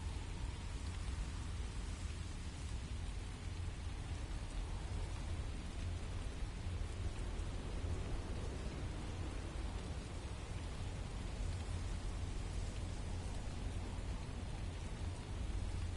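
Steady rain falls in the video game The First Descendant, a constant broadband hiss with a low rumbling bed that stays even and unbroken, with no talk over it.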